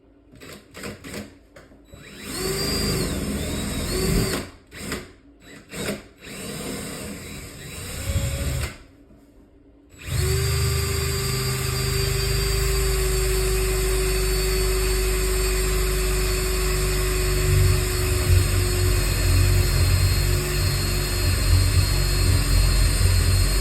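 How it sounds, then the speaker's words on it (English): A power drill bores a hole for a floating shelf dowel, short whining bursts with pauses at first, then one long steady high-pitched run for the rest. "So, I'm gonna take my drill bit here. Drill my first hole."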